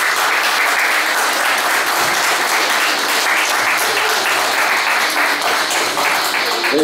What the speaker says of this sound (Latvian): Lūdzu, aplausiet!